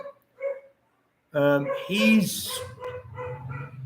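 A dog barks in a home in the Philippines. The short harmonic yelps come in a few quick bursts close to the microphone, with people talking around them.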